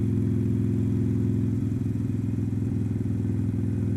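Motorcycle engine pulling steadily in third gear on a winding road, a close, continuous low throbbing drone with a slight rise in pitch as the throttle opens.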